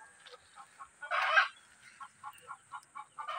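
A sick domestic duck on a rural Philippine farm gives a run of short, evenly spaced nasal calls, with one longer, louder honking burst early on. The calls are close by and fairly faint.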